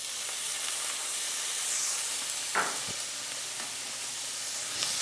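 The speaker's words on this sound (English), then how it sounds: "We put our bacon in." Chopped bacon sizzles steadily in a little olive oil in a pan, a continuous soft frying hiss with a brief clink or stir near the middle, heard alone with no talk.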